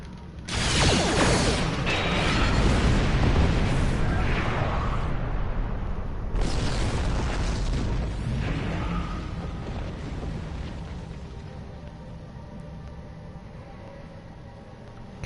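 A sphere is destroyed in a big explosion in the Star Trek Online space game, opening with a loud roaring blast, a second burst following a few seconds later, then a long rumbling decay that fades out.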